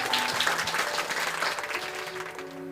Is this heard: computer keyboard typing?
no